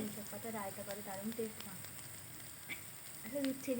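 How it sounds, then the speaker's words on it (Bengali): Bitter gourd pieces frying in oil in a pan, a faint steady sizzle heard under a voice talking through most of the moment, with a few soft crackles. "তেল দিয়ে খুব ভালো করে ভাজতে হবে উচ্ছেগুলোকে"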